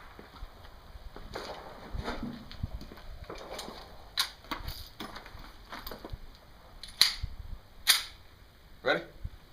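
Sharp, fairly faint pistol shots from a SCCY CPX-1 handgun crack out one at a time at irregular intervals over quiet outdoor background, several distinct reports spread across the stretch.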